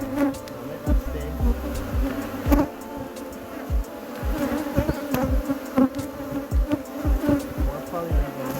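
Honey bees buzzing around an open spring hive during an inspection, a steady close drone with frequent sharp passes as single bees fly by the microphone, and faint handling knocks underneath.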